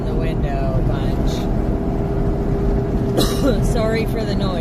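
Steady wind and road roar come through an open car window while driving home, a dense, constant rushing noise with faint higher whistles and a brief flutter near the end.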